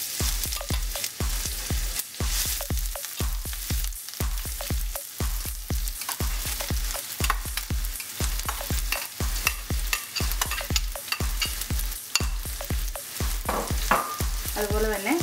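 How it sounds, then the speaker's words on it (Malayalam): Chopped onion sizzling in hot oil with popped mustard seeds for a Kottayam-style kappa biriyani, close and steady frying hiss broken by a regular rhythm of spatula stirring scrapes against the pan, with no voices. "കടുക് പൊട്ടിയതിനകത്ത് നമ്മൾ അരിഞ്ഞു വെച്ചിരിക്കുന്ന 1 സവാള നമുക്കിതിനകത്തേക്ക് ഇടാം"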